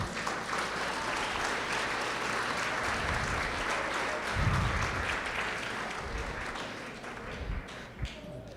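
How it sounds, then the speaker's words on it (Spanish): A church congregation applauds during a service, with steady, sustained clapping from a crowd heard at a moderate distance that tapers off slightly toward the end. "denle un aplauso al Señor"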